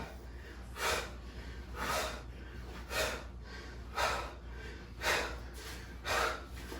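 Heavy breathing during a workout exercise, with six loud, rhythmic exhales or gasps about once a second, close to the microphone.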